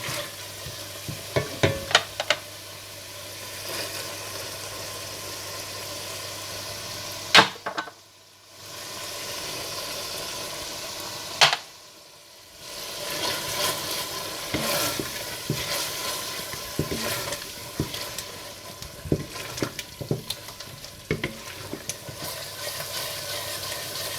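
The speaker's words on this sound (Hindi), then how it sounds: "जब टमाटर थोड़े गल से जाएं तो इसमें दही और दाल मसाला डालकर थोड़ा भून लें।" Softened tomatoes with yogurt and dal masala sizzle and fry in a pan, a steady close crackle broken by sharp clinks and scrapes of a spoon stirring, briefly muffled midway.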